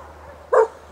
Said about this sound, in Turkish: Şurada da benim Yunanistan'a verdiğim köpeğin kızı var.